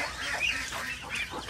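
Free-ranging farmyard ducks call in a steady, close honking chatter during light daytime rain, the harsh calls running continuously without pause.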